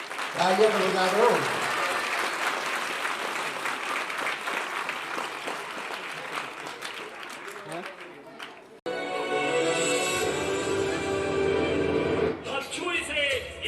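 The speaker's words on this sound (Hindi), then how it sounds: "तालियां तो बजा दो।" Audience applause at a school function at a government senior secondary school, sustained and loud, with speech from a presenter over the PA before it and a broadband burst of clapping filling the latter part.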